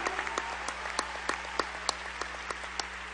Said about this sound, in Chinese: 给我们尊敬的傅先生再一次来一个掌声